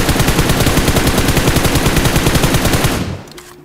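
Rapid automatic gunfire from a weapon in the mobile game PUBG Mobile, a loud sustained burst of evenly spaced shots for about three seconds that then cuts off abruptly into quiet.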